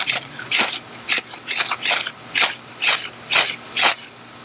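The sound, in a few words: knife spine striking Schrade ferro rod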